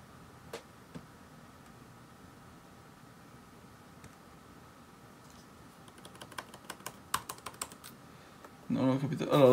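Keys on a 2017 MacBook Pro keyboard tapped in scattered bursts, faint at first and growing denser and louder near the end, with a soft steady background hum.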